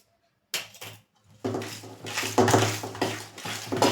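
Spoon scraping and clinking against a bowl while stirring cardamom powder into thick shrikhand, a sweet strained yogurt dessert; close, rhythmic rubbing and tapping sounds begin after a brief silence.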